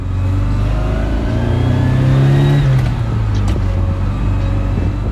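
Ferrari Mondial QV engine revving loudly and close, a sustained harmonic roar rising in pitch then easing off, with no voices over it.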